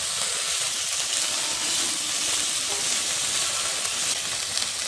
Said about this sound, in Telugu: మునక్కాయ ముక్కలను వేసుకోవాలి. 2 మినిట్స్ కలుపుతూ వేయించుకోవాలి.